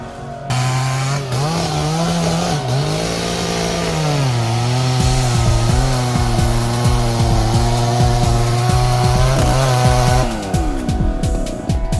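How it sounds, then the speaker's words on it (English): A chainsaw runs loud and close as it cuts into a massive tree trunk with thick bark, its engine pitch dipping and rising steadily as the chain bites, then winding down near the end; no talk. "With his chainsaw, the man carefully begins his work."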